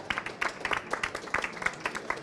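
Scattered applause from a small audience at an agricultural show gathering, uneven claps that are fairly faint and sparse over a short moment.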